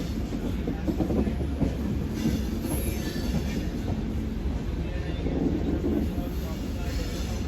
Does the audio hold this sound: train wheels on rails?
yes